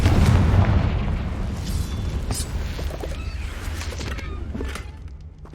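A Confringo fire spell detonates in Hogwarts Legacy, a heavy booming blast loudest at the start, then a long rumbling tail with crackling debris and scattered sparkly bursts fading over several seconds.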